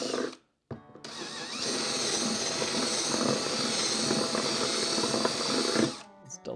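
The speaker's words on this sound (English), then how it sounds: "All we have to do is take our drill bit," Power drill with a bit reaming out holes in a plastic battery box, a steady whirring drone held for about five seconds between brief stops and starts, fairly close and moderate in loudness.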